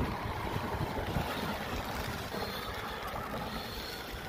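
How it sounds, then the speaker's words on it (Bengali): Strong, cold wind blows during light drizzle in Florence, Italy, producing a steady rushing roar with heavy low buffeting against the microphone. "প্রচুর বাতাস।"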